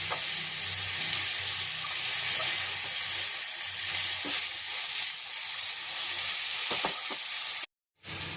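Ginger, garlic and chili paste sizzles and fries steadily with onions in a pan, a loud continuous hiss with occasional stirring scrapes, then cuts briefly to silence near the end.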